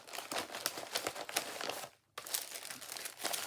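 Cards are slid back into a small bag and an envelope with close, busy paper and plastic crinkling and rustling, broken by one brief pause before the handling resumes.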